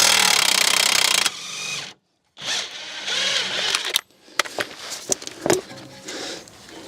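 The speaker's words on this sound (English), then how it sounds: "the bolt on that bottom arm is a 21mm. Well, it takes 21mm socket and a 21mm wrench." A 21mm bolt is loosened with a socket on the bottom suspension arm of an E90-generation BMW 3 Series. Two close bursts of whirring, separated by a short silence, give way to scattered sharp metallic clanks and knocks.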